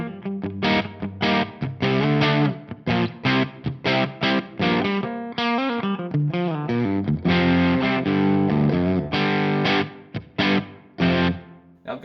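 Crunchy, slightly overdriven electric guitar chords played through a Frost Giant Electronics Mountain V3 distortion pedal, strummed in loud rhythmic bursts with short gaps, no voices.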